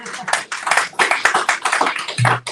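An audience claps to welcome a speaker at a talk on redistricting and voting rights, a small group producing sharp, close, uneven claps that fade out near the end.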